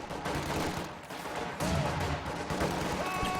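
MG42 machine gun firing in the strategy game Company of Heroes 2, rapid bursts of gunfire mixed with distant battlefield shots, moderately loud with brief pauses between bursts.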